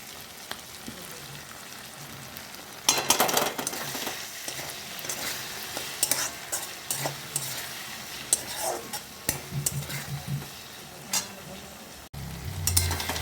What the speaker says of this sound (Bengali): এরপর এবার আমি আদা রসুনের পেস্টটা দিয়ে দিলাম।